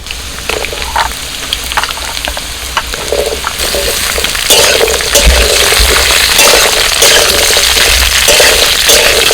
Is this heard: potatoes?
yes